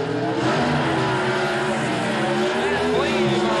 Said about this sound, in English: Van Cleve, a wheel standing launch with the Econo Dragster in on pursuit